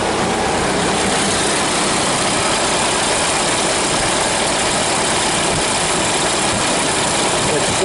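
A 1930 Ford Model A engine idles steadily up close with a rough, loud, continuous rumble while the carburetor mixture is leaned out.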